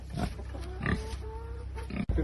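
Pigs grunting inside a farm barn, several short low grunts and snorts at irregular intervals, close by and moderately loud, with a brief thump near the end.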